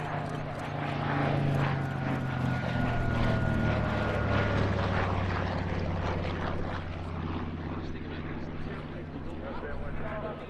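A WWII Grumman Hellcat fighter flies at an air show, its propeller engine giving a steady droning roar with a slowly shifting pitch throughout, heard at a moderate distance.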